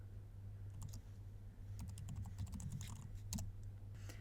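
Shell commands being entered on a computer keyboard make soft, quiet clicks in uneven clusters of keystrokes, a few isolated taps and then quicker runs over a low steady hum, with no talking.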